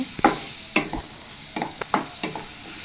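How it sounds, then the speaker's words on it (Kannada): Onion and tomato frying in oil for a cashew paneer gravy, with soft sizzling under a series of sharp scraping stirs of a spoon against the pan, close and fairly quiet. "ಟೊಮೆಟೊ ಕೂಡ ಹಾಕ್ಕೊಂಡು ಫ್ರೈ ಮಾಡ್ಕೊತಾ ಇದ್ದೀನಿ"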